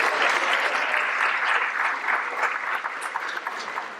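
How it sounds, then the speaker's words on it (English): An audience claps steadily at a college top ten recognition ceremony and board meeting, dense sustained applause that tapers slightly toward the end. "Let's give our Spartans a round of applause."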